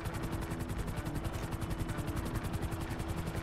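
A video game helicopter drones steadily, its rotor chopping in a fast, even pulse over a low engine hum. It runs loud and continuous with no talk.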